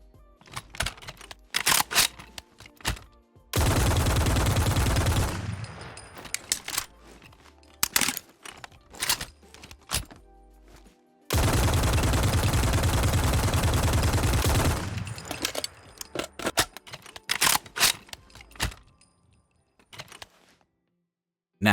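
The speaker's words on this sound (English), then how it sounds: "let's go ahead and check out the custom animations and sounds for the Type 11" Type 11 light machine gun from a Fallout 4 mod fires in two long sustained bursts, loud and close, with single shots and mechanical reload clicks and clanks around them.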